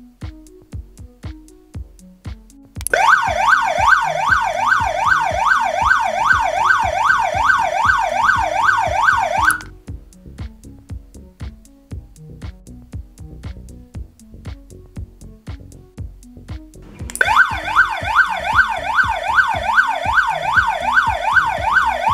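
An anti-theft alarm siren wired to a remote-controlled relay wails loudly in fast, rising-falling sweeps for several seconds, stops, then starts again, with steady ticking clicks from the relay heard throughout.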